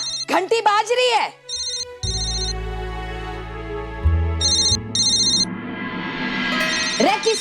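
A telephone rings in repeated short electronic trills, close and clear. Someone speaks before the rings and again between them, over a low musical hum.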